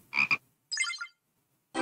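A frog croaking toy in the video game Play Together gives short, sharp croaks: a quick double croak, then a longer raspy one, and another starting at the end, loud and close with silence between.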